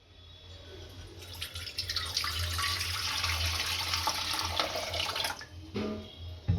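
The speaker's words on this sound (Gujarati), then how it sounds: "આ કુકર લીધું છે, આમાં થોડું પાણી નાખીશું." Water pours in a steady stream into a pressure cooker, a continuous close splashing that builds over several seconds and then stops with a few drips and a light knock at the end.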